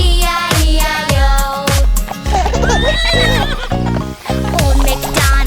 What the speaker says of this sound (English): With a neigh-neigh here and a neigh-neigh there, here a neigh, there a neigh, everywhere a neigh-neigh.